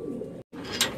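Pigeons in a loft make a low, continuous cooing murmur, broken by a brief silent gap partway through.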